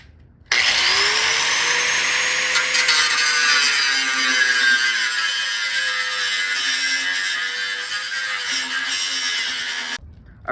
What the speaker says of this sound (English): this heat shield is welded on, so we have to cut this with the grinder